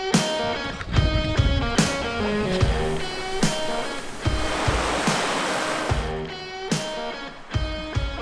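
A creek flows and rushes steadily in the mountains of Colorado, a close, full broadband water noise with occasional surges, with no talking.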